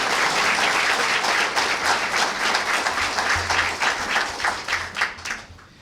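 Audience applause at a community violence intervention press conference, sustained dense clapping from a crowd that carries on steadily and begins to thin near the end.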